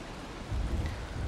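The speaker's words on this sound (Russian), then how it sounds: "Ну да, дождь это, конечно, сильно." Rain in the video game Valheim, a steady wash of falling rain with a low rumble swelling midway, heard alone with no voices.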